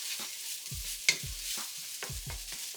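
Vegetable fried rice stirred in a hot pan as sauces are mixed through, a constant high sizzle broken by repeated low scraping strokes of the spatula and one sharp metallic clink, close and without talk.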